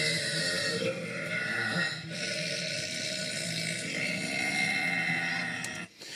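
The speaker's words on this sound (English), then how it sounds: "This young lady has just won the Guinness World Record for belching the loudest." A young woman lets out a long, loud, deep belch that holds for several seconds with a rough, gurgling, bleat-like quality, then a short pause and a brief tail at the end.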